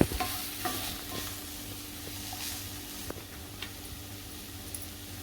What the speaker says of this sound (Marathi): आता आपली भाजी अशी परतताना थोडी लागते इकडे अशी